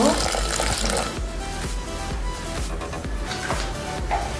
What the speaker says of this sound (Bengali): এক মগের মতো পানি দিয়ে দিব